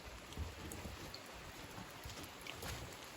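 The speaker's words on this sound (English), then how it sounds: "here's the rain again." Rain falls steadily outdoors at a 150-year-old stone house, a soft, even hiss of drops heard faintly and continuously without speech.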